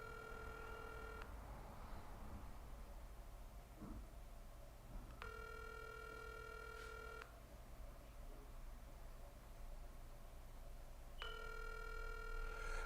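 A telephone rings on the line while the caller waits for an answer, three evenly spaced electronic rings of about two seconds each, clear and steady over a low background hum.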